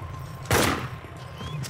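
A single loud sniper gunshot from the survival game DayZ cracks out sharply, then decays quickly over low background ambience.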